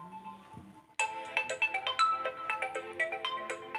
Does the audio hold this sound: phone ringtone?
yes